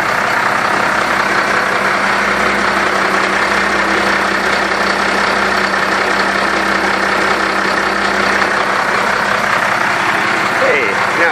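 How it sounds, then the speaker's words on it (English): Truck engine idling on a parasail winch rig, a loud, steady rumbling drone that runs unbroken throughout while people talk nearby. "so there is the running engine"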